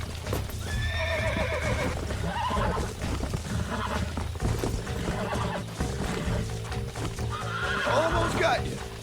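Red Dead Redemption video game horse whinnies repeatedly, sharp neighs near the start and end, over continuous galloping hoofbeats, while someone talks through parts of it.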